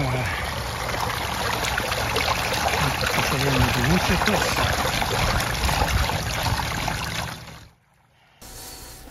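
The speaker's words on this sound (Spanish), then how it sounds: "Parece que empezó a correr el agua." Water from a garden cascade begins running, a steady broadband trickling and splashing close by under a voice, then cutting off abruptly near the end.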